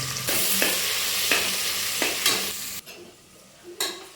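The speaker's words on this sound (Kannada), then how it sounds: "ಈರುಳ್ಳಿ ಚೆನ್ನಾಗಿ ಫ್ರೈ ಆಗೋವರೆಗೂ ಬಾಡಿಸ್ಕೊಳ್ಳೋಣ." Onions frying in oil for restaurant-style mutton biryani, a steady loud sizzle broken by several scraping stirs, cutting out near the end before one last stir.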